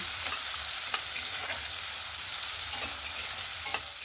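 Finely chopped onion softens in hot oil for a capsicum masala gravy, a steady crackling sizzle broken by light scrapes and taps of stirring at irregular intervals; nearby and moderately quiet, with no voices.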